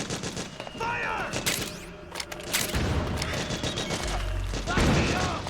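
Bursts of video game gunfire from Metal Gear Solid 4 on PS3, with rapid shots and explosive thumps during an assault on a power station, loud and close, mixed with game music and shouted orders.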